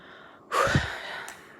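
A single sharp, breathy gasp bursts out after a quiet moment, then trails off into a rough exhale.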